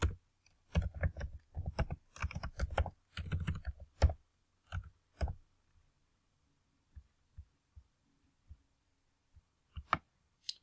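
Typing on a computer keyboard: dense runs of close, crisp key clicks for the first five seconds, then slower, isolated taps with pauses between them, in a quiet room with no talking.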